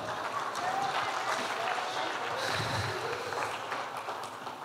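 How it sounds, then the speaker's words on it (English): Sustained applause from a seminar audience at a leadership training event, an even wash of clapping at moderate level with a hint of crowd murmur. "Let's give King another round of applause."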